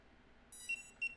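A few short high electronic beeps from DJI Goggles 3 FPV goggles powering on sound over a faint hiss, quiet and close.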